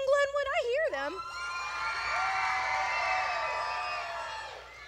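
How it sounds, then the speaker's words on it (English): Fans at a school dance show cheering for Team Glenwood: high shouts and whoops open, then a sustained roar of screaming crowd voices holds steady before tapering off. "where's the people in the crowd for Team Glenwood? I hear them."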